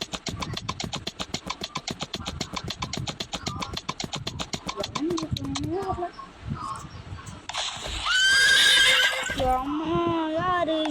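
A horse whinnies loudly near the end, a high wavering cry after a stretch of rapid rhythmic clattering and movement, with other voices and noise around it.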